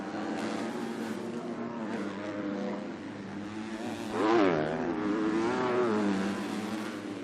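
EMX250 motocross bikes, a Bud Racing Kawasaki and Maddie Racing Husqvarnas among them, race at the 2019 MXGP of Russia, their engines droning and revving steadily, with one bike swelling louder as it charges past close by.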